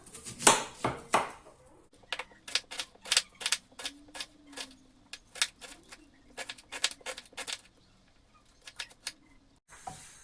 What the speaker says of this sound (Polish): Bułkę musimy pokroić w drobną kosteczkę.